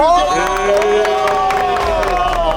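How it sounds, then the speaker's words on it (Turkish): A crowd cheering and shouting in celebration for the winning team at a Turkish strength contest between cage fighters and bodybuilders, loud and continuous, with scattered clapping mixed into the shouts. "Alkış alkış. Bravo."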